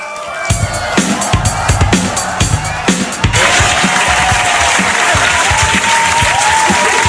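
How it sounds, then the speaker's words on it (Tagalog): At a political rally, a crowd claps in a rhythmic, counted burst of about ten beats, then breaks into loud sustained applause with cheering and whoops. "Sampung palakpak para kay Senator Marcoleta"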